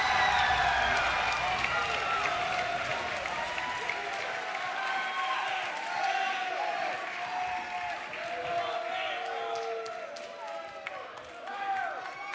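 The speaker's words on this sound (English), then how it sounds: "The Columbus Arena is packed, and they're on their feet applauding for Roy." A packed Columbus Arena crowd on its feet applauding at a 2010 MLG Halo championship. Dense, steady clapping and cheering roars throughout, under an excited commentator's voice.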